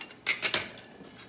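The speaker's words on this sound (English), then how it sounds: "So I'm just gonna cut these, I'm just gonna cut them. Well, this pizza cutter really sucks." A few quick scraping crunches as a pizza cutter rolls through crisp flatbread, three short strokes close up, then quiet.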